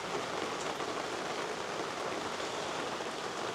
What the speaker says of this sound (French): ça va être une vidéo sous la pluie